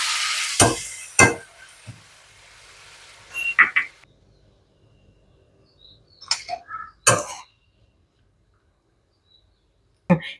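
Brief bursts of sizzling as papadam fries in hot oil, irregularly spaced with quiet gaps in between.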